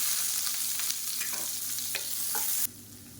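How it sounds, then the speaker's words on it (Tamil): Chopped large onions frying in a pan of hot oil while being stirred, giving a steady close sizzle with scattered spatter pops and scraping clicks from the spoon, no voices. "இப்போ வெங்காயம் லேசாக வதங்க ஆரம்பிச்சிருச்சு"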